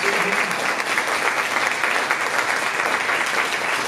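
An audience gives a round of applause for the distinguished panelists at an evening teen workshop on fentanyl. The dense, steady clapping of a full room holds strong and even throughout, with no voices over it.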